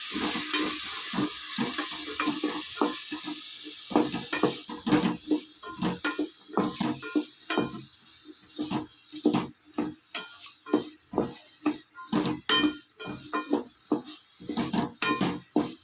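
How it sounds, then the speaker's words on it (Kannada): Vegetables and chana dal with curry leaves fry and sizzle in a pan for a Mandya-style thaldha curry, with steady sizzling and frequent close clattering stirs, no voices. "ನಾನೀಗ ಎಲ್ಲ ವೆಜಿಟೇಬಲ್ಸ್ ಮತ್ತು ಕಡಲೆಬೇಳೆ ಹಾಕ್ಕೊಂಡು ಚೆನ್ನಾಗೆ ಫ್ರೈ"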